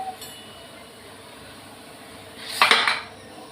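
A knife cutting vegetables for a home-cooked lunch gives one short, sharp clack near the end, after a quiet stretch of faint room noise.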